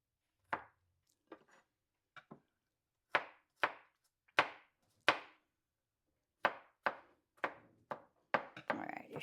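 A knife chopping garlic on a board, about a dozen sharp, separate thunks in an uneven rhythm, close and clear, with a brief voice near the end.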